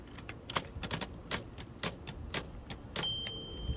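Keys struck on a 1925 Remington Model 2 typewriter outdoors, a quick run of sharp, close clacks in uneven rhythm, ending with a bell-like ring at the carriage return.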